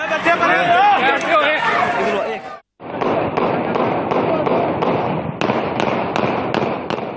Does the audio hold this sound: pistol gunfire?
yes